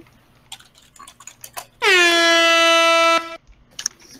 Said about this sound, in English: Just gonna hear air horns for the next 30 minutes.